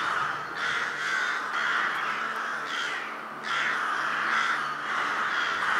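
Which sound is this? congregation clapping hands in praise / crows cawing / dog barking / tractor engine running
crows cawing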